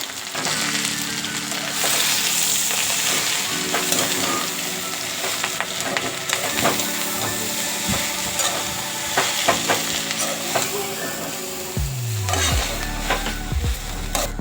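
Harbhara (chickpea) greens and washed moth bean dal are stirred together in a frying pan, the spatula scraping and clattering steadily over a continuous sizzle, with a few louder knocks toward the end.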